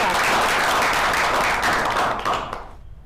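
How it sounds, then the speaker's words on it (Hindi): Audience applause welcoming a speaker at a Team 360 business event in Jaipur: dense, loud clapping that holds steady for about two and a half seconds, then thins and fades out. "जोरदार तालियों के साथ स्वागत करते हैं"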